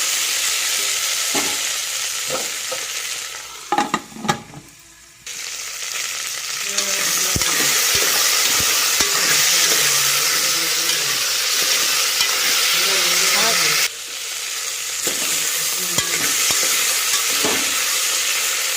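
Cashews frying in hot oil for vegetable fried rice, a loud steady sizzle broken by a few scraping stirs and clinks of a spoon against the pan, close and continuous without talk.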